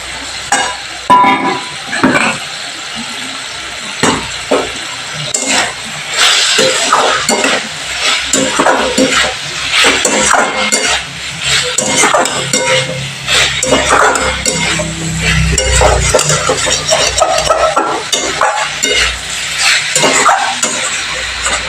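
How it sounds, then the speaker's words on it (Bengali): Fried cauliflower stir-fried with spice paste in a pan, a loud continuous sizzle and frying hiss under constant scraping and clattering of a spoon against the metal, steady throughout at close range. "এবার আমি ভেজে রাখা ফুলকপির সাথে মশলাটা একসাথে কষিয়ে নিচ্ছি।"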